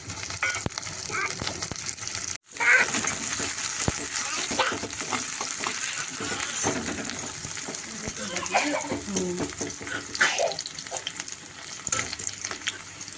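Saag greens and chopped garlic frying in a home pan, a loud continuous sizzle with occasional stirring scrapes and a brief dropout near the start, while a voice talks over it at times.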